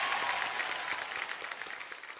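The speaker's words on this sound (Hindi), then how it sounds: "इसी बात के लिए तालियां." Dense, steady applause from a live audience at a dance reality-show final audition, sustained and fairly even for the whole stretch, with no voices over it.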